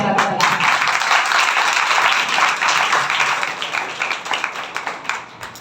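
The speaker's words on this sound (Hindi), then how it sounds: "जोरदार तालियां बजाएं।" Loud applause from a congregation at a Friday healing meeting, a dense burst of clapping that thins toward the end into scattered claps, with some voices mixed in.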